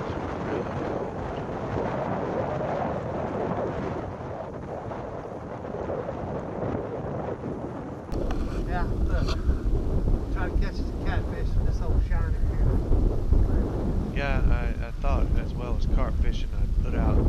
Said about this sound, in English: As you can see, the wind is really up.